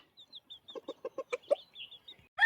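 Several rapid clucks from Pahari hill chickens, a rooster and hens, in a quick run, with higher chirps from chicks around them and a louder squawk at the end, close by.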